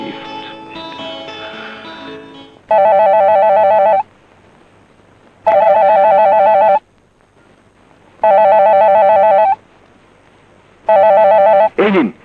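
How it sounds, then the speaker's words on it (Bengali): A phone rings in repeated electronic bursts with short pauses between, loud and close, following a brief stretch of tones at the start. "রিং হচ্ছে"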